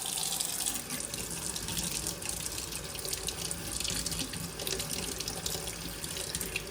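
A tap running warm water into a sink, a steady close splashing rush that stays even from start to finish.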